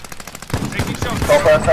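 Rapid automatic gunfire in Call of Duty Warzone, a dense burst of close shots that begins about halfway through and keeps going to the end, loud and continuous with some game sound effects mixed in.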